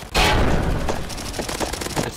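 Rapid gunfire in CS:GO, a loud opening burst followed by a dense fusillade of repeated shots and booms, close and continuous, with no talking.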